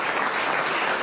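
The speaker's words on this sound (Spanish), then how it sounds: "un gran aplauso desde aquí también" A dense burst of applause fills a government council of ministers meeting, steady and close throughout the brief moment with no talking over it.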